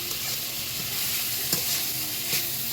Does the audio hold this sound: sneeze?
no